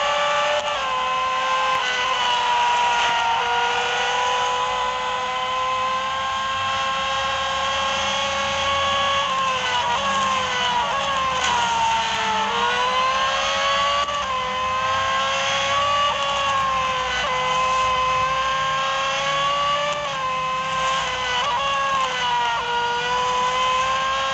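Race car engines in the mobile game Real Racing 3 whine loudly and continuously, pitch climbing through gears and dipping under braking into corners, several cars layered together with no talk over them.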